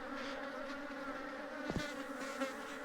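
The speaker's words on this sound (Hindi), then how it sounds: "तो मधुमक्खियाँ अपनी रानी मधुमक्खी को ढूंढने का प्रयास कर रही है जो बाहर है।" Honey bees buzz around a hive searching for their queen, a steady droning hum close by with a few louder passes.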